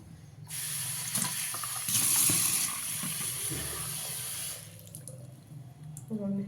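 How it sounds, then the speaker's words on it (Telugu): Water runs from a tap for several seconds, splashing over tamarind being rinsed, then stops, followed by faint clinks of handling. "చింతపండు నానాలి కాబట్టి దీంట్లో అయితే కడిగేసి వాటర్ వేసి పెట్టేసుకుందాము"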